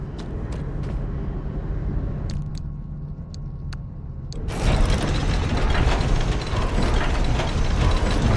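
A crafting machine in the game Pacific Drive turns screws into items: sharp mechanical clicks and ratcheting ticks over a steady hum, then a loud, dense whirring grind that surges in and continues to the end.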